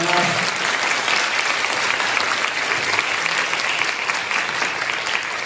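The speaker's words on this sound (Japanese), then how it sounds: "盛大な拍手もう一度お願いいたします。" Steady, dense applause from a concert audience fills the hall after a Christmas performance by a jazz workshop orchestra, loud and sustained without pause for several seconds.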